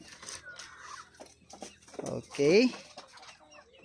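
Rhode Island Red chickens in a coop cluck and call in short bursts, with one louder squawk standing out near the middle, while a person speaks briefly nearby.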